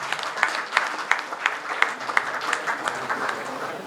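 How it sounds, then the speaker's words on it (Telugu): Steady audience clapping at the consecration of Padre Pio church in Kondalaraopalem, Vijayarai, with a rhythmic pulse of claps over several seconds and no talk over it. "మనం వారందరికీ కృతజ్ఞతలు చెల్లిస్తూ గట్టిగా చప్పట్లు కొడదాం."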